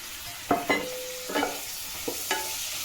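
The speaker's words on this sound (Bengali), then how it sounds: "নুনটা দিয়ে একটু আর একটু নেড়ে নিয়েছি।" Meat with salt and tomato is stirred in a pan with a spatula, giving a few distinct scraping strokes over a low, steady sizzle, close and moderately loud with no talking.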